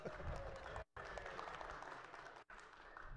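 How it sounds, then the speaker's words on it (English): Applause fills a Senate chamber during a floor session, a dense, continuous patter of clapping from the room broken by two brief dropouts. "That's the first applause I've had all session."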